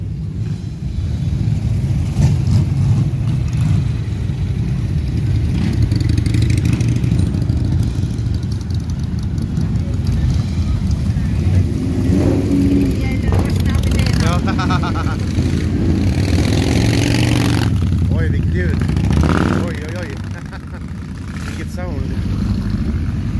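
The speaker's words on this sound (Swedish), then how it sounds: "Här är mycket motorcyklar" Several motorcycles rumble and rev nearby at an evening motor festival in Älvdalen, a steady mix of engine drone and occasional throttle rises, with someone talking over much of it.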